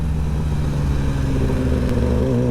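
A stock sport motorcycle with a stock exhaust idles and revs steadily nearby, a continuous loud rumble with a slight rise in pitch toward the end.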